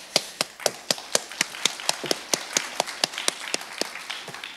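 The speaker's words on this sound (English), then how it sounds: "I think a round of applause is in order." A single person claps at a steady, brisk rhythm of roughly twenty claps during a live show, each sharp and clearly separated, without wider crowd applause around it.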